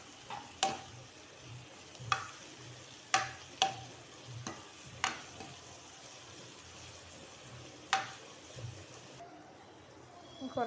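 Onions fry with crushed fennel, garlic and ginger for a Kerala beef roast, a faint low sizzle under irregular taps and scrapes of a spoon stirring the pan, with quiet pauses between strokes.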